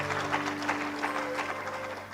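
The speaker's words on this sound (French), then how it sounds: "Clap the Lord." A church congregation claps and cheers together during a worship service, a dense, sustained burst of applause with steady hand claps over a low organ-like hum.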